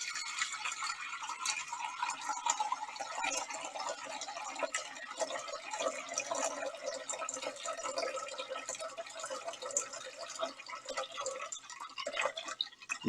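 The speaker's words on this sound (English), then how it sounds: "So let's get some filtered water in there." Filtered water runs from a kitchen tap into a cooking pot, a soft continuous trickle and splash with small dripping ticks, fairly quiet and steady throughout.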